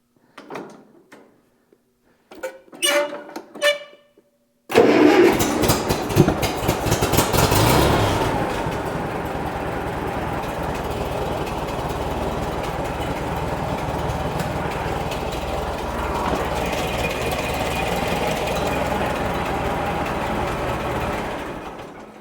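A Massey Ferguson 35 tractor is cranked after a few clunks and scrapes, fires abruptly and roars into a loud, steady running engine that holds close and continuous for over fifteen seconds.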